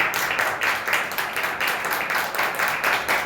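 A church congregation at a Hindi-language worship service claps hands together in a steady, rhythmic beat, dense and fairly loud, with a faint murmur of voices underneath.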